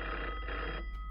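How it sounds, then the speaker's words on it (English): An electronic telephone ring in a horror video game, a steady trilling tone for about a second, fairly loud and alone with no talk. "I answer the phone"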